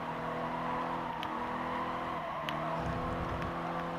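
Race cars in Gran Turismo Sport's Nations Cup battle three abreast, engines droning and shifting with sharp clicks of gear changes, a steady, moderately loud mechanical roar with no talk during the moment.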